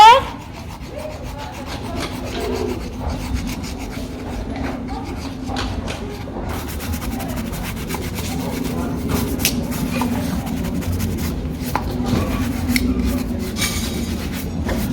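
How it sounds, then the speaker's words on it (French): A horse's hoof is cleaned on the outside with a brush and the metal part of a hoof pick, giving close, repeated rasping and scrubbing strokes with a few sharper scrapes. "On n'oublie pas de nettoyer l'extérieur du pied, pour me servir de la brosse et de la partie en fer."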